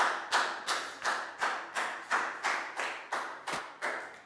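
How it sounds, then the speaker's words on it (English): A classroom of students claps in a steady, rhythmic pattern during a math lesson, about a dozen sharp, evenly spaced claps that each decay quickly, fairly close and with no talk over them. "Big round of applause for Pak Bung, guys."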